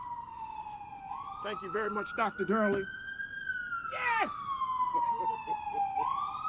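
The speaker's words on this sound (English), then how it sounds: "let the siren go for a moment" An emergency vehicle siren wails outside during a campaign event, rising and falling in a long sweep across the whole stretch, loud and steady, with people's voices and a cheer breaking in over it.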